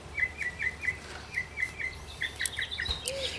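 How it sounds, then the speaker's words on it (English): Small birds chirp repeatedly in a backyard, short bright tweets in quick rhythmic runs, fairly faint and distant over a soft outdoor background hush. "Sorry for the birds in the background."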